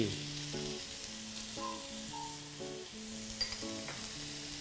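Garlic and coriander root fry in a pan that was already glistening with bacon fat, giving a steady, close sizzle, with faint stirring through it.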